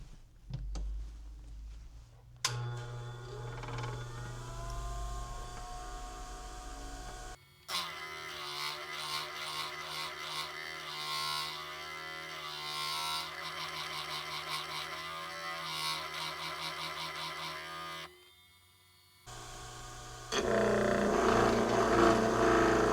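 Lapidary lap spinning while magnetite is polished with 600 grit, a steady mechanical whir with ringing tones that shifts pitch partway through, nearby and continuous with brief pauses.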